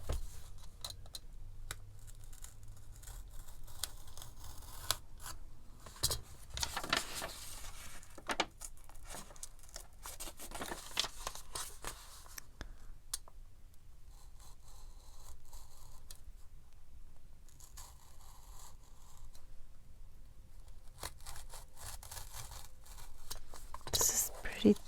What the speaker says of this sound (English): go ahead and cut it, because I don't want there to be ripping into the image.